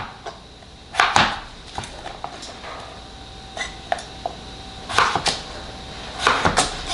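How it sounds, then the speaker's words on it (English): A knife cutting potatoes into French fry strips on a board in a kitchen, several sharp chopping knocks in irregular clusters separated by quieter pauses, close by, with no talking. "you're going to cut them into strips to the thickness that you like for your French fries"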